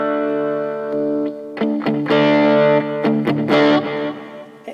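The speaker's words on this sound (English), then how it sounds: "I'm going to kick in a little bit of distortion here" Electric guitar played through a distortion effect, sustained overdriven chords ringing and restruck several times, loud and close with no talking.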